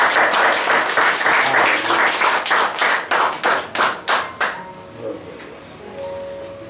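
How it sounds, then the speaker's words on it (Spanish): Church congregation clapping together at a Spanish-language service in Lima, Peru, starting as a full burst, then settling into slower rhythmic unison claps that fade out. "Den un aplauso al Señor"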